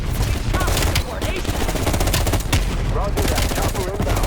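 Rapid gunfire in a Cold War video game firefight, with dense bursts of automatic fire and single shots crackling loud and nearly nonstop, while a radio voice speaks briefly over the shooting.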